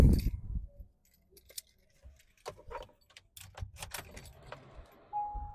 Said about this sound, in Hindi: चाबी लगाते हैं।